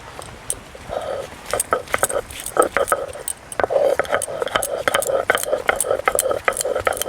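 Ginger and garlic are ground on a flat grinding stone, with a steady run of rhythmic scraping strokes and sharp knocks of stone on stone, close and fairly loud.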